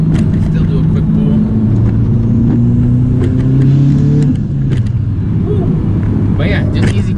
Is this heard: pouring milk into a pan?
no